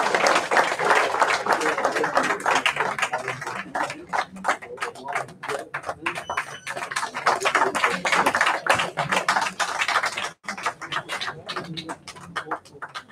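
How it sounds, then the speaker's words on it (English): Applause from an audience at a university prize distribution ceremony, sustained dense clapping from many hands filling the room, with a brief dip near the end. "huge round of applause"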